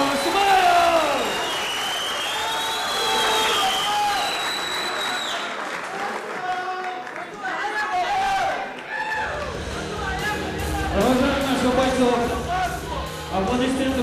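A crowd applauds and cheers after a split-decision MMA fight between Rasul Edilov and Khunkar-Pasha Osmaev. Loud cheering comes first, then the clapping swells again later. An announcer talks over the hall noise.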